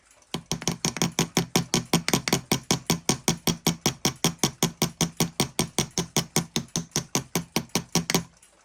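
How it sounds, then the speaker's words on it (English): A steel hammer peens a rivet on a Kienzle vehicle clock in a fast, even series of about forty sharp taps on an anvil, close and ringing, keeping a steady rhythm until it stops. "A steel hammer to flare the rivet end over to lock it in place."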